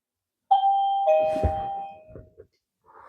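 A single loud two-tone doorbell chime rings out close and clear, its tones sustaining and then fading into quiet, with a faint rustle afterward.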